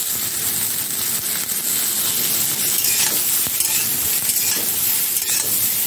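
Medium onions and cauliflower being sautéed over high flame in a pan, giving a dense, continuous loud sizzle with faint clinks of stirring, close and with no one talking.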